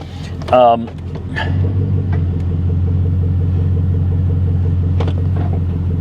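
An old GMC RV truck's engine idles with a steady low rumble that rises slightly as it is put into gear, with a brief whine and some clunks early on.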